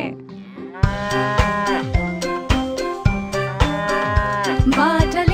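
Mooing of a cow inside a Hindi nursery song for children, long bovine calls sounding over a bouncy, rhythmic backing track with regular beats, loud and close.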